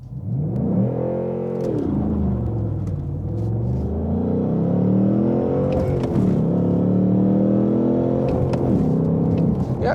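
Ford Mustang Mach 1 with a 460 hp 5.0-litre V8 and manual gearbox launching hard with wheel spin: a loud, close engine roar that climbs through the revs, dips at a gear change, then surges again without a break.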